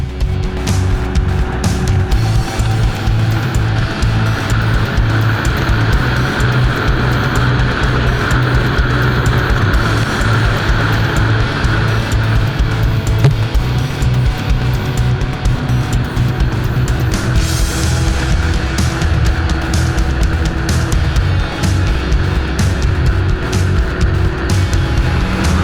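A snowmobile crossing a snow-covered lake, its engine a loud, close, continuous drone with a steady roar that holds from start to finish.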